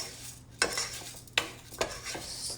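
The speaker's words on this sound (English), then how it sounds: "Stir that around a little bit to coat it with some oil." Rice is stirred around in oil in a pan, giving three distinct scraping strokes of a utensil against the metal over a soft, low sizzle, with no voices.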